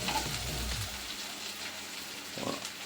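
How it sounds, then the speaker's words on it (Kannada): Chopped onions fry in oil with a steady crackling sizzle close by, a soft scrape of stirring near the start and again toward the end. "ಈರುಳ್ಳಿ ಸ್ವಲ್ಪ ಬ್ರೌನಿಷ್ ಆಗೋವರೆಗೂ ಹುರ್ಕೋಬೇಕು ಈರುಳ್ಳಿನ"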